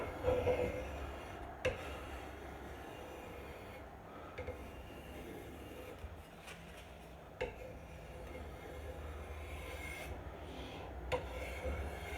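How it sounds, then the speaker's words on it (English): Hand scraper dragged across an old wooden dining table to strip the finish, a continuous rough rasping scrape close by with occasional sharper catches and knocks, no speech. "I think I'll prefer to scrape first and get as much off, so that I'm not rubbing with gunk"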